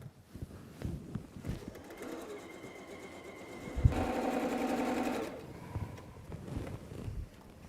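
A sewing machine runs in a steady mechanical burst while quilt blocks are chain pieced for a throw quilt, rising loud in the middle of the stretch, with room noise and light activity before and after.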